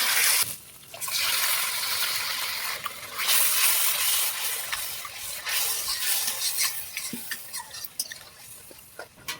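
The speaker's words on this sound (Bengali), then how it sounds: "হালকা করে জল দিয়ে একটু ভেজে নিতে হবে" Meat frying in a pan after a splash of water is added, in a home kitchen: a bright, hissing sizzle that swells and fades in waves as it is stirred, with light scraping and no talking.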